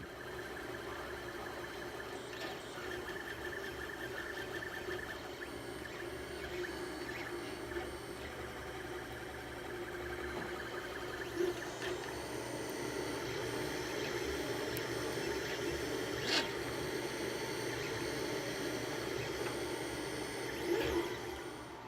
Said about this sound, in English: I'll show you a little video of the 3D printer so you can see it